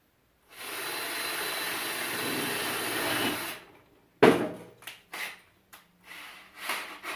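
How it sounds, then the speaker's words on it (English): A power drill whirs steadily for about three seconds drilling holes in wood, then stops, followed by a sharp knock and several short clattering, tapping sounds nearby. "Drill 2 quick holes."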